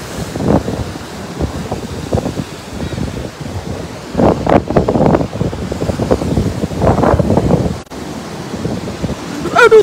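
Sea waves surge and crash near storm-damaged homes on the coast, a loud, continuous roar of surf mixed with heavy wind buffeting the microphone, with several stronger breaking swells rising over the steady wash.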